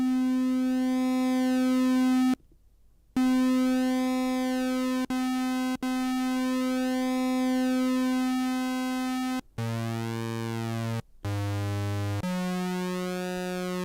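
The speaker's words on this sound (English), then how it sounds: "So we've got this PWM going" A bright modular synthesizer tone hums with a slowly shifting, sweeping pulse width modulation timbre, broken by a few brief gaps, then changes pitch near the end.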